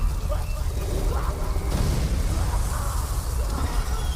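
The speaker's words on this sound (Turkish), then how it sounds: "uçak patladı" A dense, rumbling explosion roar of an airplane blowing up in the video game Infected Sky, with crackling debris, fills the whole clip, loud and sustained.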